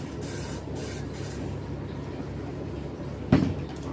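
Several soft hissing mist bursts from a spray bottle over a steady background hum, followed by a sharper knock near the end.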